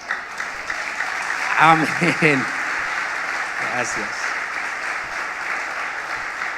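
A church congregation at a pastors' conference applauds steadily throughout, with a few short spoken words heard over the clapping.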